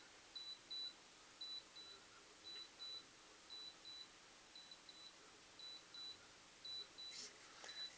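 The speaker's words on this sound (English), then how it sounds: "You'll hear this start beeping" A radio transmitter binding to an HK 600GT helicopter gives regular pairs of short, thin electronic beeps that repeat steadily at a low, quiet level over faint background hiss.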